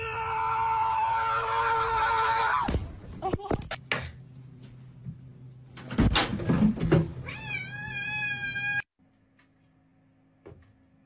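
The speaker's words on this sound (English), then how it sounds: "The things a cat will do to wake you up in the morning." A cat meows insistently in the morning to wake someone, with a drawn-out rising meow near the end over a noisy, cluttered room, mixed with voices, thumps and other compilation sounds.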